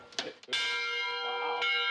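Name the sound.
old school bell being rung at a history museum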